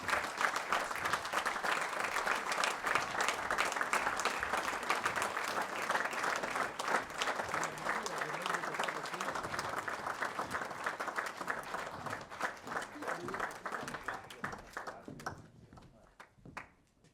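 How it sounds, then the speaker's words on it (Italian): Steady, full audience applause rolls on at an even level for many seconds, dense and close, before thinning out and fading away near the end. "Dai, un altro applauso."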